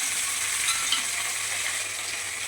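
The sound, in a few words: tomato frying with cumin and bay leaf in a wok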